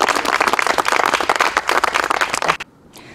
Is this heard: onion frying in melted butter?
no